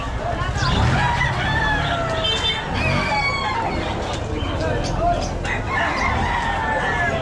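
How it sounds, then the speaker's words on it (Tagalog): A crowded poultry market: chickens cluck and roosters crow repeatedly over a dense, noisy background of birds and distant voices. "bentahan ng mga manok"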